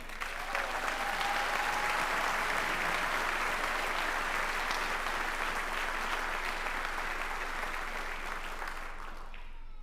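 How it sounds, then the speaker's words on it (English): A crowd at a sheriff's law enforcement class graduation bursts into sustained applause, a thick, even roar of many hands that holds for nearly ten seconds before starting to fade, heard from a moderate distance. "that alone deserves a round of applause"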